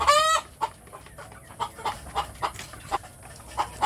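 A native kampung hen clucks before laying eggs: a short raised call opens, then a regular series of close, moderately loud clucks repeats every fraction of a second.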